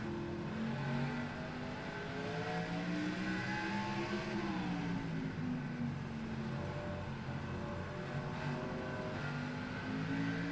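Race car engine on an onboard camera during a Southern National race, droning steadily for about ten seconds with the pitch rising and falling as the driver feathers the throttle, loud and close with no talk.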